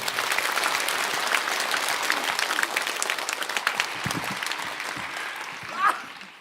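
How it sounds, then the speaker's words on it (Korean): Applause from a church congregation welcoming a guest preacher to the pulpit, a steady sustained clapping that holds for several seconds before tapering off at the end. "강명옥 전도사님 나오실 때 보내시고 세우신 하나님께 영광의 박수로 환영하도록 하겠습니다"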